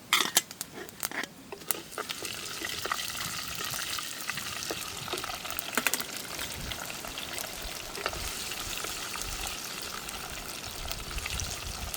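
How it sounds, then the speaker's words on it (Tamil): Mustard seeds, curry leaves, fennel and fenugreek crackle and sizzle in hot oil for a fenugreek kuzhambu, a steady, close, dense spatter with sharp pops that are busiest at the start, and no voices. "எண்ணெய் நல்லா கொதிச்சுட்டு நான் எடுத்து வச்சிருக்கிற கடுகையும் கறிவேப்பிலையும் முதல்ல சேர்த்துக்கொள்கிறேன்."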